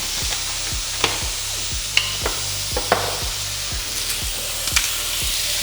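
Beef sizzling in an already hot pan, a loud continuous hiss and crackle, broken by occasional scraping stirs and a few sharper clinks.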